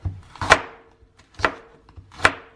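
A knife chops through food on a cutting board in three firm, evenly spaced strokes, each a sharp, close thud with a brief tail, with quiet pauses between.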